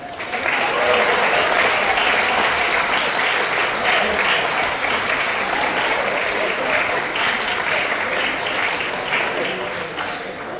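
At a semester commencement dinner, an audience gives sustained, loud applause that fills the room evenly for about ten seconds, with dense clapping and no speech over it.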